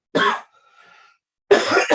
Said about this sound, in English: I thought I was going to be the one coughing, not you.